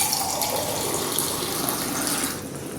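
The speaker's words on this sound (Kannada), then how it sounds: "ಇದರಲ್ಲಿ ಸ್ವಲ್ಪ ನೀರು ಮಿಕ್ಸ್ ಮಾಡ್ಕೊಂಡು" Water poured into a bowl of ragi flour, a steady, close gushing splash that eases off slightly at the end.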